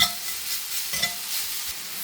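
Ingredients sauté in oil in a pan for French tacos, with a steady close sizzle and repeated scraping stirs throughout and no voices.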